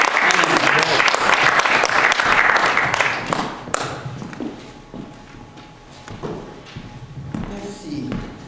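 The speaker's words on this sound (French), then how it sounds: "est-ce qu'on ne donne pas une bonne main d'applaudissement à notre Dieu?" A church congregation claps loudly for a few seconds, then the applause thins out and fades, with thumps and shuffling, and a voice speaks over the quieter part.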